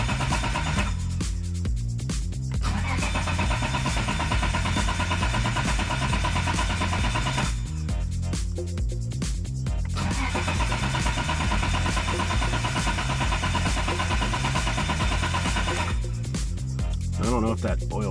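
Nissan R32 Skyline GTR with a single-turbo conversion, cranking and starting: a loud, steady mechanical churn runs throughout, with dense rattling bursts near the start, middle and end, and voices talk over it.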